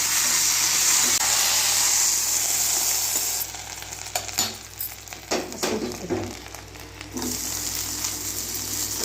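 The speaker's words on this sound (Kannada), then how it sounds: "ನಾವು ಪುದೀನಾನ ಜಾಸ್ತಿ ಫ್ರೈ ಮಾಡಬಾರ್ದು, ಟೇಸ್ಟೇ ಇರೋಲ್ಲ. ಸುಮ್ಮನೆ ಲೈಟಾಗಿ ಇದು ಮಾಡಿಕೊಂಡ್ರೆ ಸಾಕು." Mint leaves fry lightly in oil for a chutney, giving a loud continuous sizzle that briefly drops away into scattered crackles and stirring knocks midway before the hiss returns, close up with no voices.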